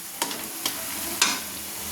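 Ground spice paste for mutton frying in a pan while being stirred, a low sizzling hiss broken by three sharp scrapes of the spoon.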